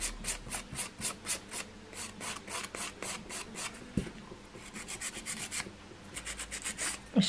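A nail file rasps rhythmically across fingernails, close and soft, in quick repeated back-and-forth strokes with a short pause midway before the filing resumes.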